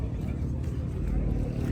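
A car does a burnout at a car meet, its engine roaring loud and steady with a deep, continuous rumble throughout, while crowd noise murmurs faintly in the background.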